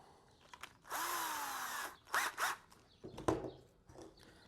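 A power drill pre-drills holes through a tree limb for a bird feeder, with one sustained whine that dips as the bit bites, then shorter bursts of drilling and some handling clatter, close up and alone.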